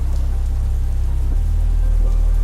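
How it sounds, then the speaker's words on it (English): Storm sound effect of rain and wind battering an old farmhouse, a dense, continuous wash of rainfall with a deep low rumble underneath, loud and steady throughout with no voices. "The storm raged outside, a symphony of howling winds and relentless rain that battered the old farmhouse"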